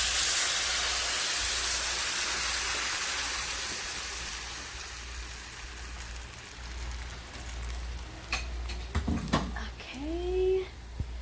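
Blended ingredients hit a hot pan in a pork rib guiso, a loud broad sizzle close by that gradually fades, with a voice speaking near the end.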